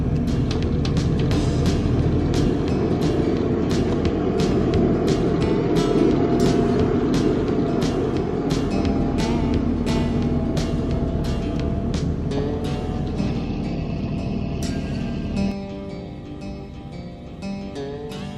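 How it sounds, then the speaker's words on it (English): A vehicle hauling a full 275-gallon maple sap tank, its engine rumbling loud and steady with rattling clanks over rough ground, then the drone drops lower and quieter near the end as it slows. "now we're going to drive it back and put it in the sugar shack."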